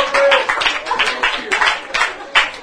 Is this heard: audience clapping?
yes